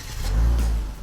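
Genesis G90 sedan's 3.3-liter twin-turbo V6, a steady smooth low engine hum with a slight rise, close and alone for about a second.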